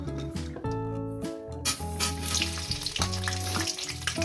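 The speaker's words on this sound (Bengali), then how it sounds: "লাল লাল করে আলুগুলো ভেজে নেবো" Potatoes frying in oil in a pan with turmeric and spices for a posto chicken dish, a sizzle beneath loud tonal music that dominates, with stirring noises mixed in.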